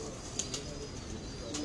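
A pigeon at a pigeon market gives soft, quiet coos, a couple of brief calls over faint background hum, with no talking.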